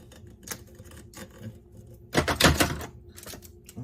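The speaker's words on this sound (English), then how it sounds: "And then I'll just tape the back." Tape pulled and pressed onto the back of a kids' cup for sublimation, scattered close crinkles and clicks with a louder burst of tearing tape in the middle.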